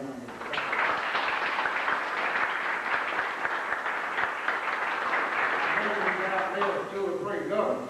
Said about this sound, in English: Let's give that to him in a round of applause.